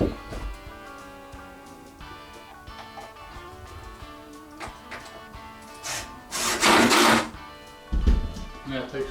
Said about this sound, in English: then I can go ahead and put screws in the other 2 holes